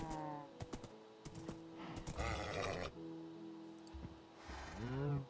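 Minecraft horse noises, a few short whinny-like bleats and snorts at irregular spacing over quiet game ambience and soft clicks, with the last call rising near the end.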